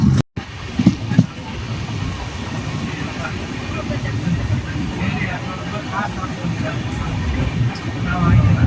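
The Coromandel Express rolls on toward Gudur Junction with a steady, close rumble of wheels on rail and a carriage interior drone, a few sharper knocks early on, and a voice speaking over the noise.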